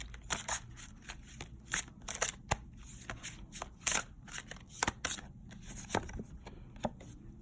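Tarot cards handled and drawn from a deck, making a run of quick papery clicks, slaps and riffling taps at an uneven rhythm, close and fairly quiet.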